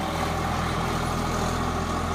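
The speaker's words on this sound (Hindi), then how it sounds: "आवाज़ बहुत आ रही होगी क्योंकि वहाँ पे नीचे खेत है जिसको खेत से जोत रहे हैं" A tractor plowing a farm field nearby, heard as a steady, loud low engine drone with a continuous rumbling idle and no breaks.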